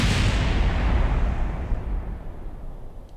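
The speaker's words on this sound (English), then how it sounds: "So what was that second explosion?" Explosion in Kerbal Space Program, a loud broadband boom that starts at full force and rumbles away over about three seconds, with no talking.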